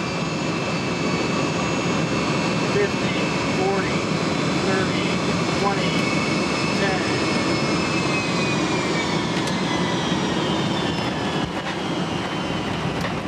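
A Boeing 707 airliner arriving to land at Cairo, heard from on board as a steady, loud engine and air roar with whining tones that slowly drift, continuous throughout.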